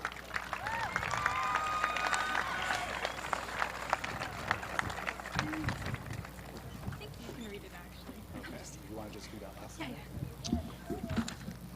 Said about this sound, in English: Let's give them a round of applause for the tassel ceremony.